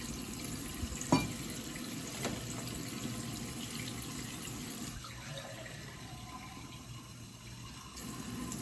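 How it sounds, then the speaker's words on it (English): Cold tap water runs steadily from a kitchen faucet into a measuring cup in a continuous, moderate hiss, with a small clink near the start. "And I'm going to put in 2 cups of water."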